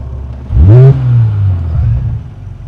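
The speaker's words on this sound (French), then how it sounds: "en Sport Plus, on a une sonorité un peu plus importante à l'échappement" A Morgan Plus Six sports car in Sport Plus mode revs hard from a steady idle, its engine and exhaust rising to a loud, brief roar that settles back into a deep, rumbling idle close to the microphone.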